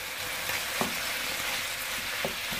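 Finely chopped ginger and garlic sizzle steadily in hot oil in a pan for a pork rogan josh, with a few soft scrapes and knocks of stirring over the constant frying hiss.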